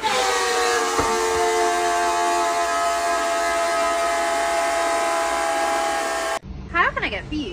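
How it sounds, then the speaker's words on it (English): A toilet emits a loud, sustained siren-like tone, a steady droning whine with strong harmonics that holds for several seconds before cutting off abruptly, followed by a brief burst of talking. "Can somebody tell me why my toilet sounds like this?"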